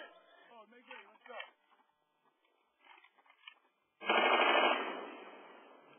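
M240 machine guns fire on a military range with the 24th MEU. Talk comes first, then a sudden loud sustained burst of gunfire that booms and rolls away into a fading echo.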